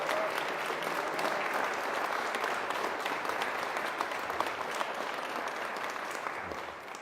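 Sustained applause from a large crowd at a political campaign launch speech, steady and loud throughout, with dense clapping that tapers slightly at the very end.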